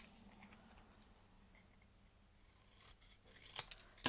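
Scissors cutting card into an angled banner, quiet close snips and rustling with a few sharper cuts near the end.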